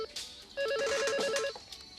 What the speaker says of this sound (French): Le téléphone? Ben alors, vous pouvez pas répondre?